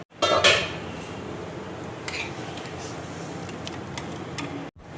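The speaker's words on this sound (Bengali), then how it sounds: "এবার দেখো ঢাকাটা আমি খুলছি।" A cooking pot lid lifts with a sharp metallic clatter at the start, followed by light clinks and ticks of metal over steady steamy background noise, close by.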